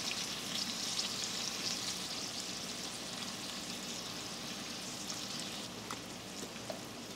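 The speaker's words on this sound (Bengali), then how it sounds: "মেটেটা 1 মিনিট মতো নাড়াচাড়া করে মিক্স করে নিলাম" Spiced liver sizzles and fries in a hot pan while being stirred, a steady close crackle with occasional scraping, no voices.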